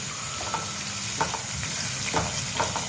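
Onion, green chillies and garlic fry in a pan with a close, steady sizzle, punctuated by several short scraping stirs of a spoon.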